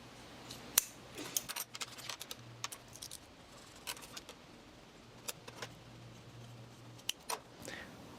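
Scissors snip through fabric in quick, irregular cuts, crisp close clicks and blade scrapes separated by short pauses, with a faint low hum beneath.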